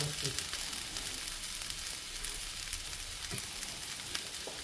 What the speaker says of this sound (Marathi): आता मी ना याच्यात बरोबरीनेच आलं लसणीची पेस्ट घालते, म्हणजे ती भाजली जाईल.